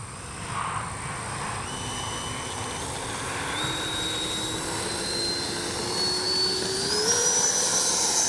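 A Freewing 80mm L-39 camo RC jet spools up and takes off, its turbine whine climbing steadily in pitch and growing louder over several seconds against a breezy outdoor background.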